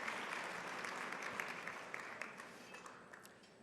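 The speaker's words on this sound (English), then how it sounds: "Please join me in giving them a well-deserved round of applause." Sustained applause from a breakfast audience at the Boca Resort, rewarding musicians who just performed, steady dense clapping that slowly tapers toward the end.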